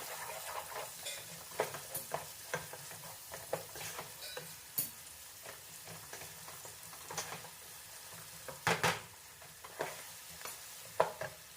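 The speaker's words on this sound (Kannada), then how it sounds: "ಸಣ್ಣ ಸಣ್ಣದ್ದು 4 ಈರುಳ್ಳಿ ಮೀಡಿಯಮ್ ಸೈಜ್ದು ಸೇರಿಸ್ಕೊಂಡು ಸ್ವಲ್ಪ ಫ್ರೈ ಮಾಡ್ಕೊಳ್ತಾ ಇದ್ದೀನಿ" Onions, four medium ones, fry in a pan for egg gravy, a soft steady sizzle broken by scattered stirring scrapes and taps, close and quiet with no talking.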